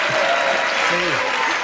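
A 1981 television game show studio audience bursts into loud, sustained applause and cheering throughout, with a voice calling out briefly beneath the clapping.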